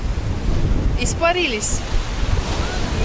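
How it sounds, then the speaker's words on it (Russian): Strong wind in Alanya, Turkey, in October roars and buffets the microphone in a constant rushing blast, with a voice speaking briefly under it. "сейчас дует достаточно сильный ветер"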